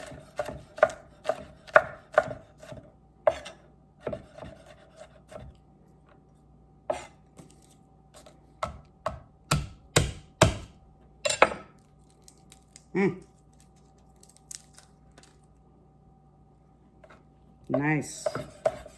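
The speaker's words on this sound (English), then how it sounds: "give this a rough chop" A kitchen knife roughly chops food on a cutting board for chicken spaghetti, with bursts of sharp close thuds separated by pauses, a few clinks of utensils, and a voice speaking between the chops.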